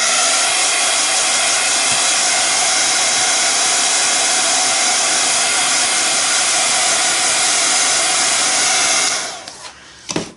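A hair dryer blows steadily to dry paint, a loud, even whooshing hiss that runs close by for about nine seconds before cutting off, followed by faint handling noise and no talk.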